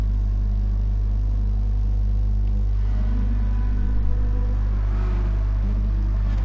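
Race cars lead the field out on the opening lap at Laguna Seca, heard as a continuous heavy engine rumble and drone that swells slightly toward the end.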